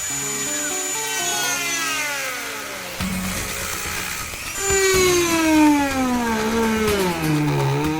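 A high-pitched rotary tool whines and shifts pitch as it cuts the foot off a small gargoyle statue, rising and falling steadily with no talking.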